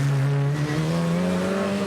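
Race of Champions cars in Sweden roar through a corner, loud engine notes rising in pitch over a steady roar, with some tire noise mixed in.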